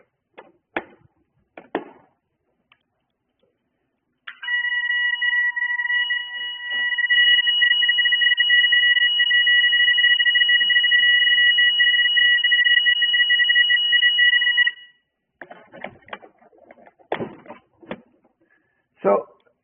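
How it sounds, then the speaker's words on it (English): An AJAX wireless fire alarm panel buzzer and alarm device sound together as one loud, steady high-pitched tone lasting about ten seconds, with a few clicks and some talking before and after. "when there is a fire alarm, the panel's buzzer goes off along with the sound and visual from our visual alarm device."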